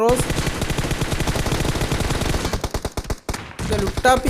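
Rapid automatic gunfire from a shooter video game, a dense sustained burst of loud shots that thins into scattered cracks and short pauses toward the end.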